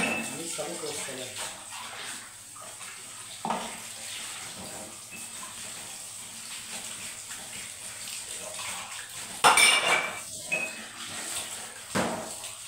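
Glasses and dishes washed in a kitchen sink under running tap water, a steady stream with scrubbing, splashing and occasional clinks of glass, while someone talks over it.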